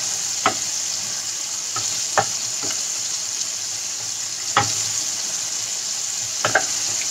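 Microwave-cooked chicken sizzles steadily in a pan as its skin browns, a constant bright hiss broken by several sharp taps and scrapes of a utensil, close and loud with no talking.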